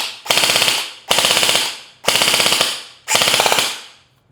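An airsoft gun fitted with a loudener fires four full-auto bursts, each a rapid, loud rattling string of shots about a second long, separated by brief pauses.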